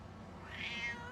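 A pet cat gives a single soft, drawn-out meow indoors, quiet against faint room hum.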